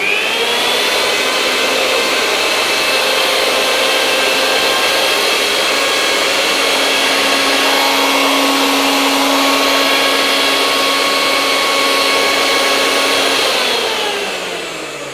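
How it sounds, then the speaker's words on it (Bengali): A Havells Aspro 500 W mixer grinder runs steadily at full speed with a loud, sustained high-pitched whine and whirr, close up, then starts spinning down at the very end. "500 ওয়াট হওয়ার জন্য কিন্তু আপনারা যথেষ্টই নয়েজ আপনারা কিন্তু পাবেন এই মিক্সার গ্রাইন্ডারটিতে"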